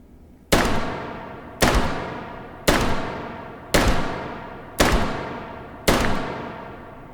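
Six evenly spaced shots from a Chiappa Rhino .357 revolver in Hot Dogs, Horseshoes and Hand Grenades ring out, each a sharp, loud crack followed by a short fading echo, with about a second between shots.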